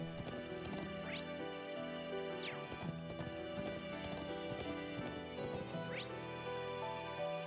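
Rhythmic clip-clop of horse hooves ridden along a road in the video game Trails of Cold Steel 4, steady trotting beats over a layered game music score with occasional sweeping effects.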